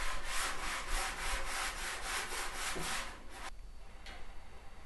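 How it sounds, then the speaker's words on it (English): Rhythmic back-and-forth strokes of sanding on a painted wooden box panel, a steady scratchy rasp repeating about twice per second, close and fairly loud, then a shift to quieter, smoother rubbing near the end. "Sand down."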